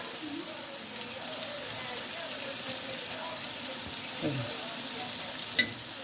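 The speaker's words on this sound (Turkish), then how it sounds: "Tereyağı, sıvı yağ ile soğanı soteliyoruz" Onion sautés in a mix of butter and oil, a soft continuous sizzle with a clink near the end and faint voices murmuring in the background.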